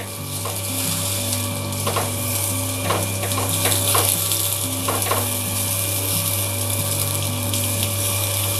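Fish pieces fry in a pan over medium heat for a Himachali-style masala fish curry, giving a steady, close sizzle throughout with a few soft scrapes and clicks as the pieces are turned.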